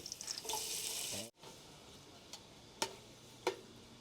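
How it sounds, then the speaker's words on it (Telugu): Onions and green chillies fry in hot oil for a prawn curry. A loud, hissing sizzle cuts off abruptly after about a second, then a few sparse clinks of stirring follow. "ఇదే మంచిగా ఫ్రై అవుతుంది"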